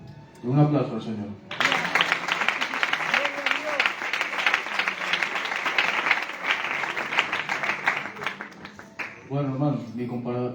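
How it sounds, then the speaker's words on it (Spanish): Sustained applause from a church congregation at a Spanish-language youth service, loud and steady for about seven seconds, with a voice speaking briefly before it starts and again as it fades. "Un aplauso al Señor."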